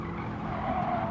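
A Ford race car in a racing game at Laguna Seca sliding into a corner, tires skidding and squealing steadily under a continuous engine drone, moderately loud and without voices.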